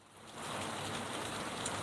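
Steady rain falls outside, a continuous broadband hiss of drops on surfaces that swells slightly and then holds level throughout, with no voices.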